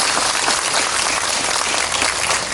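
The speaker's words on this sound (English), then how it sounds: "let us give them a round of applause" A crowd applauds at a plywood factory event in Meghalaya, a dense, steady wash of clapping held at full strength throughout, loud and close, with no voices over it.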